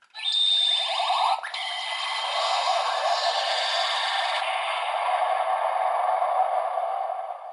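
Electronic sound effect from a DX G.U.T.S. Hyper Key Premium toy in the Ultra Brothers set: a sharp, loud electronic burst with a brief high tone that drops into a sustained, dense crackling, explosion-like hiss, playing alone without talk.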